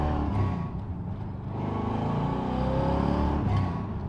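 A 1980 Chevrolet Corvette C3 engine pulls steadily under light acceleration, heard from inside the car as a continuous low rumble that rises and dips gently through an unhurried gear change.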